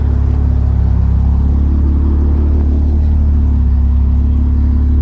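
Steady, loud engine rumble and road roar from a stage 2 full bolt-on Audi S4 with 430 hp and AWD, cruising at an even pace with no clear revving, heard from inside the car.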